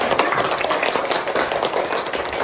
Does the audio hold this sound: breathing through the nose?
no